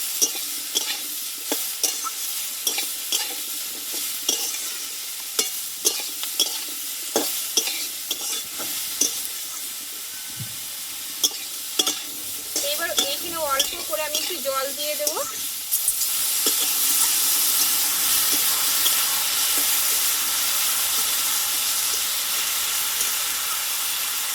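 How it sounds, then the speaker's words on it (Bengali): Long beans and potatoes with turmeric and salt get stirred in a frying pan, with rhythmic scraping taps of a spatula over a constant sizzle that swells louder toward the end, unaccompanied by voices. "দেবো হলুদ গুঁড়ো আর দেবো স্বাদ মতো লবণ দিয়ে একটু নাড়াচাড়া করে নেবো"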